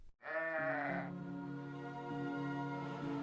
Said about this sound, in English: they're generally quiet except for the occasional baa, which is pretty darn adorable